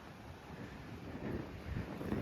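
Wind gusts across a boat ramp by the water, a steady broadband roar buffeting the microphone that swells slightly louder toward the end, with no voices.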